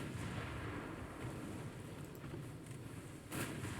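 Naval cannon fire booms in the battleship game Ultimate Admiral: Dreadnoughts as a continuous, heavy low rumble of distant gunfire, with a sharper burst toward the end.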